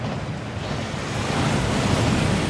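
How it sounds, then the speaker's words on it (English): A waterfall in the video game Hogwarts Legacy gives a loud, steady rushing roar that swells slightly over a couple of seconds, with no voices. "That waterfall washes away all enchantments."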